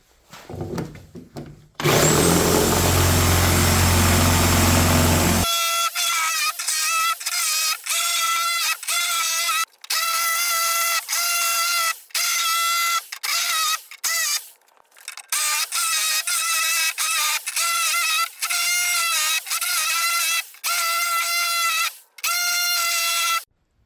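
Reciprocating saw fitted with a Milwaukee carbide blade cutting repeatedly, a loud continuous buzzing drive broken by short pauses between cuts, preceded by a brief burst of heavier noise at the start; no talking.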